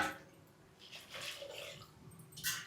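Curry leaves get rinsed in water in a home kitchen, with short splashing and trickling swishes that come in a few brief bursts, soft and close, with no talking.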